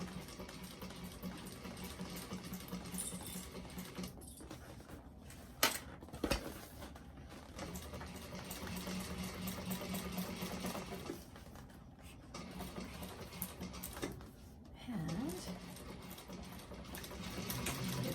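A sewing machine top stitches a cotton bag, running in long steady bursts with brief stops between them, close and fairly quiet.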